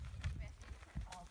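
A horse's hooves thud and clop on the ground during a flagging groundwork exercise, a few soft irregular steps heard under a person talking nearby.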